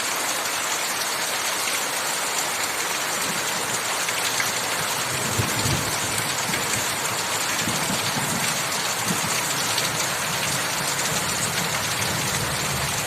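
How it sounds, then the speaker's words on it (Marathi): Heavy monsoon downpour during a thunderstorm after a hot spell: dense, continuous hiss of rain on surfaces, loud and unbroken, with a low engine-like hum underneath. "आज एकदम मुसळधार पाऊस आला"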